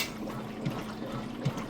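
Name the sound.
Kenmore washing machine agitating clothes in water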